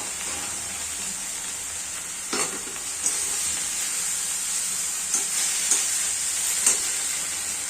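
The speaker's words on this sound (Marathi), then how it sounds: "भाजी टाकून घेऊया आता मिक्स करून घेऊया आपण" Chickpea greens frying with garlic and green chilli in a pan, a constant bright sizzle broken by several sharp stirring scrapes and knocks, close and fairly even.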